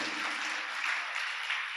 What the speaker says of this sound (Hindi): एक बार उनके लिए भी जोरदार तालियां बजाइए,